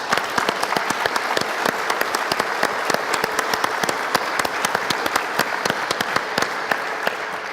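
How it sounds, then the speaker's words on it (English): Conference audience applauding event sponsors, with a loud, sustained wash of many hands clapping in a large hall, close and continuous with sharp individual claps standing out. "Please give all of these generous sponsors a big round of applause."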